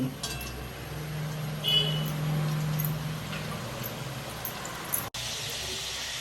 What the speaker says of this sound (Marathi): तेल गरम झालंय आता एक एक कोचरी आपण सोडून घेऊ